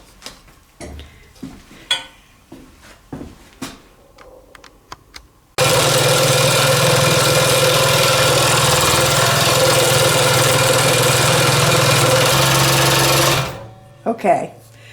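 Light tapping and handling noises come first, then a power saw starts and runs loud and steady for about eight seconds while cutting a wooden carrot nose for a snowman sign, then stops, followed by a few knocks.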